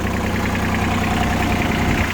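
A Mitsubishi MT155 Japanese mini tractor engine runs smoothly and steadily, close and loud, with an even idling rhythm and no voices.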